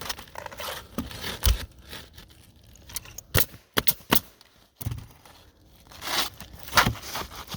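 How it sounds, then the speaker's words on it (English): A one-tab piece of roofing shingle is cut while re-shingling a California cut valley, producing scattered crisp tearing and crunching bursts, some sharp and close, between quieter gaps. "So, I'm gonna cut my 1 tab here."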